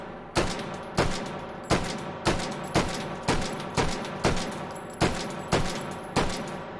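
Madsen LAR rifle fired on semi-auto in the VR game H3VR, about ten loud, evenly spaced shots at a steady rhythm, each one ringing out with a short decay.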